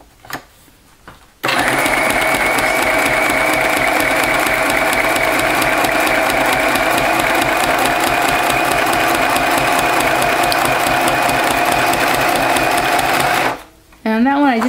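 A sewing machine runs steadily through a straight stitch for about twelve seconds, a loud continuous whir with a fast even rhythm, starting after a short pause and stopping near the end.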